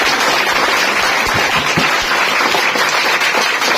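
A crowd welcomes a topper student with loud, continuous applause that fills the space. A few sharper claps pop through the dense wash.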